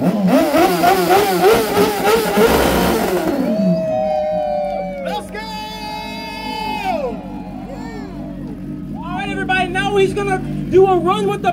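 A BMW S1000 motorcycle running on plastoline, a fuel made from plastic, revs loudly and repeatedly, its engine pitch sweeping up and down, while a crowd cheers and calls out around it.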